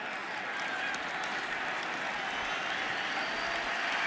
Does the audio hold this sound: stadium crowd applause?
yes